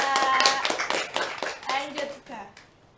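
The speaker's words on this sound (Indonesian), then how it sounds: "Oke, tepuk tangan dong untuk Dayang Nabila." Applause rises for Dayang Nabila at a Belitung Timur 2023 tourism ambassador talk show, a few seconds of scattered clapping from a small group that fades toward the end, with voices speaking over it.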